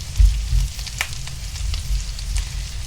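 Carnitas browning in a pan over medium-high heat, giving a steady close sizzle and fry crackle with a few sharper pops, no talking over it.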